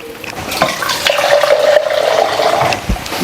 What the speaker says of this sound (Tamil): மசாலா வதக்கிட்டு கொஞ்சமாக தண்ணி சேர்த்துக்கலாம்